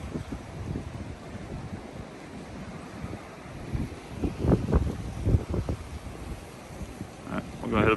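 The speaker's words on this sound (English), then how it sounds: "It is cold and windy." Cold wind gusting at a beach in Myrtle Beach, South Carolina in spring, a steady rushing blow with surf wash beneath and a few louder buffets toward the end.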